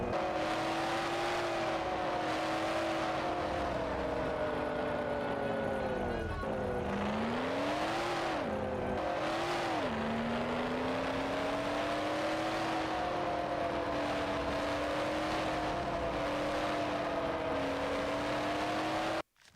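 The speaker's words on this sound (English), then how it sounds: "It's a very loud car." Loud car engine in the PS2 game Monster Hunter, a sustained droning hum that dips and swells as the vehicle slows and revs, heard alone without talk.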